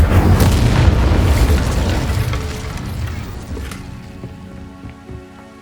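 A loud fire spell going off in the video game Hogwarts Legacy, a heavy booming whoosh with crackling that bursts up front and then slowly fades, leaving a faint ringing tail.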